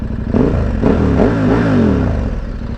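A KTM 1190 Adventure motorcycle engine fires up close by and revs, the exhaust rumbling loud and deep as the pitch climbs and falls with each throttle blip.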